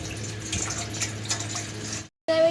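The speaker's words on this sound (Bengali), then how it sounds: "আমি এখন ঠান্ডা ঠান্ডা জল দিয়ে নিচ্ছি গামলায়" Cold water pours into a bowl for lemon sherbet in a steady, splashing stream that cuts off abruptly, followed by a brief bright clink.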